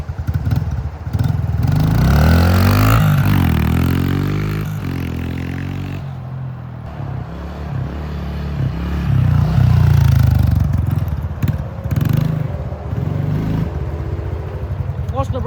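A motorcycle launches hard nearby, revving up through rising engine sweeps, dropping off, then surging again, with people talking over the loud engine noise.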